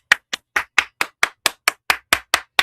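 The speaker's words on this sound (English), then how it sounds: "Now everybody clap your hands" Hand claps in a cha-cha line dance, about a dozen crisp single claps in a steady, even rhythm, close and loud with silence between each.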